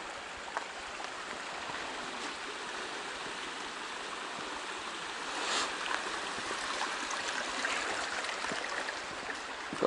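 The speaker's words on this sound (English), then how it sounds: "So a nice little stream here." A small mountain stream on the Winsor Trail in Santa Fe National Forest flows in a steady, soft, broadband rush of water, continuous and unbroken, heard alone without voices.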